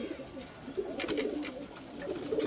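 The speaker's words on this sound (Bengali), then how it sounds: "সব পায়রা ঢুকেই গেছে" Pigeons settling into their loft coo repeatedly at close range, soft low throaty calls rising and falling over a steady background hum.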